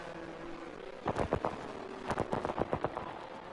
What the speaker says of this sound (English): As you can hear it in the distance, the fireworks for the McLaren of McKenzie here at the Mexican Grand Prix.